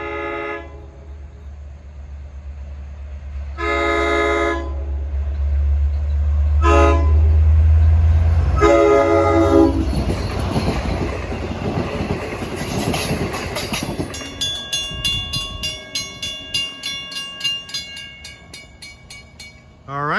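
A Long Island Rail Road train led by a DE30AC diesel locomotive passing the Grant Avenue crossing in Islip, with repeated loud horn blasts, a rising diesel roar and rattling clickety-clack of cars rolling by close, then a crossing bell ringing rhythmically.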